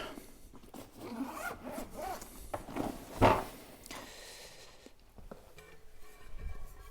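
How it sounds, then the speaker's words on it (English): A Cadac 2 Cook 2 portable BBQ carry bag zipped shut around the cooker unit, one quick rasping zipper pull rising to a sharp peak, close and loud, with light handling rustle around it. "Zip it up."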